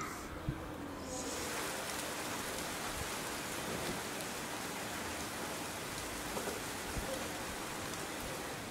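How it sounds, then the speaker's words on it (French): Rain falls in a pre-storm atmosphere, a steady dense hiss of drops on surfaces that sets in after a quieter first second, with a few louder individual drops tapping nearby. "Il commence à pleuvoir, quelques gouttes qui tombent."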